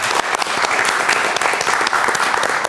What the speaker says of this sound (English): I want everyone to help me give my personal round of applause to Mr.